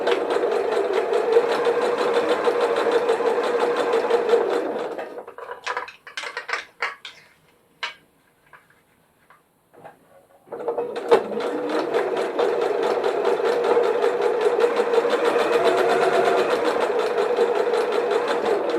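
A sewing machine stitches a zipper pouch, running in a steady, close, rapid whirr for about five seconds. A few scattered clicks and handling noises follow in a pause, then the machine runs smoothly again until the end.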